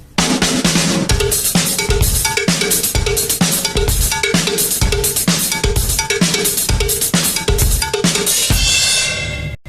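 Cowbell and hi-hat play a fast repeating pattern over a simple kick drum beat, loud and steady with no talking, ending in a brief ringing decay.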